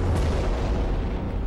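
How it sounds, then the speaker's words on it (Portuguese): A deep, rumbling explosion effect for the Tunguska event in remote Siberia, a heavy sustained low boom that rolls on continuously without a break. "Um grande objeto explodiu em Tunguska, na remota Sibéria."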